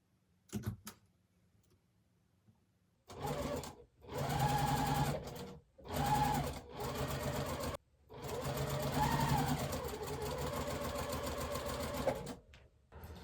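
A sewing machine runs in several bursts of rapid, steady stitching as quilt blocks are joined, close up, with short pauses and a few clicks in between.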